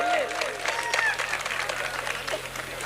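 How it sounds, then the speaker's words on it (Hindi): Audience applause at an all-India mushaira poetry gathering, a dense wash of clapping from a crowd, mixed with voices and brief tonal sounds, steady and fairly loud throughout. "जोरदार तालियां हो जाए इस नौजवान के लिए"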